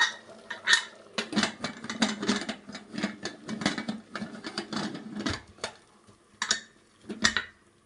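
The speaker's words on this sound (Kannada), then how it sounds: "ಈಗ ಮುಚ್ಚಳ ಮುಚ್ಚಬೇಕು ಇದಕ್ಕೆ." Metal pot lid set down and clattered onto a pot of egg biryani, a series of sharp clinks and knocks in quick bursts, close by and fairly loud, with a few brief scrapes of metal on metal.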